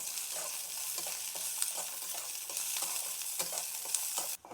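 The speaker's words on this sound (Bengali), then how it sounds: "রসুনটা কিন্তু পুরো ভাজবো না, শুধু রসুনের গন্ধটা যাওয়ার জন্য আমি নাড়াচাড়া করবো" Garlic stirred and frying in a small amount of oil in a pan, a steady soft sizzle broken by repeated scraping strokes of the spoon, close and continuous with no voices.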